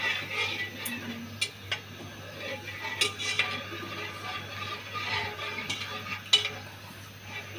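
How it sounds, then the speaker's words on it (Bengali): Milk boiling in a pot for mishti doi, stirred slowly with a spoon that scrapes and taps the metal now and then over a constant low hum, close and fairly soft. "জ্বালানোর সময় এভাবে আস্তে আস্তে নাড়তে হবে"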